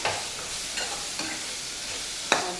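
Masala for egg curry sautéing in a pan, a soft continuous sizzle broken by three or four spoon scrapes and a sharper clink near the end, close and fairly quiet, with nobody talking.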